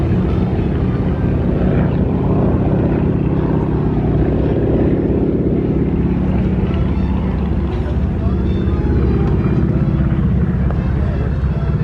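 Stearman biplane and L-16 Champion warbird propeller aircraft at a beach air show, a loud continuous engine drone holding steady throughout with a broad rumbling roar, voices talking over it.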